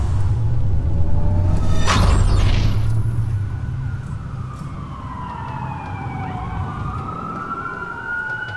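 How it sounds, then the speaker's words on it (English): Wailing police sirens rise and fall over a low rumbling background in a Watch Dogs game scene, with a second siren sweeping in the distance as the sound continues steadily. "That's a lot of sirens for a blackout."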